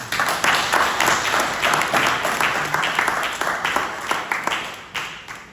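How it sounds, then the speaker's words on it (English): An audience claps for a special guest at a community gathering, a fairly loud round of applause that swells and then gradually thins toward the end. "Give her a round of applause."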